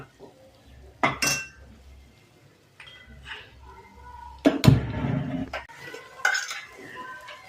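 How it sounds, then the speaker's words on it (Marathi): Spoon scraping and clinking inside a cooking pot while chicken sukka is stirred, in a few separate bursts with quieter pauses and a faint sizzle between them. "पुन्हा एकदा ढवळून घेऊया."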